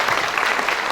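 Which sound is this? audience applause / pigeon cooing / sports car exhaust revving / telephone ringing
audience applause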